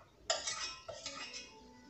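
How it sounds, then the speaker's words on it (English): Hot pumpkin goes into a blender for a pumpkin, papaya and oatmeal smoothie, with a sharp clink of a utensil against the jar followed by a few lighter taps and scrapes, fairly quiet and close. "We're gonna add the pumpkin to the blender."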